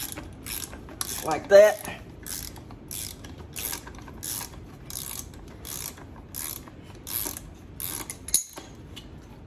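A hand ratchet clicks steadily as it unscrews a nut on the rear shock of a 2018 Ford Edge Sport, a regular run of close, crisp pawl clicks with a brief clunk near the start and a short voice partway through.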